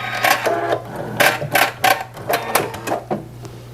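A sewing machine backstitches to lock the end of a seam on a fabric pin cushion shaped like an iron, running in short bursts that stop and start with brief pauses, close and clear with no talking.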